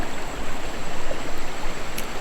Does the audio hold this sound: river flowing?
yes